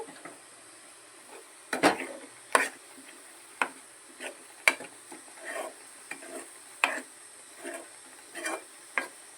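A spoon scrapes and clacks against a pan in irregular strokes, about a dozen short knocks over a soft sizzling bed, no voices.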